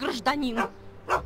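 A dog in the Back to the Future video game gives several sharp, close barks in a quick run, with a voice speaking briefly in between.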